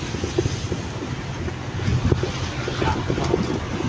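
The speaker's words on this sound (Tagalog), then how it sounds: "lakas talaga ng hangin dito" Strong wind gusts across an open, unsheltered outdoor spot with nothing blocking it, a steady low rumbling buffet that swells around the middle, close and fairly loud with no talking.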